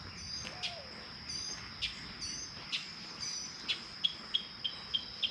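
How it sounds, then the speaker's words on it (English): Mockingbirds call in short repeated phrases over a soft outdoor hiss, ending with a run of quick, evenly spaced chirps. "I think those are mockingbirds."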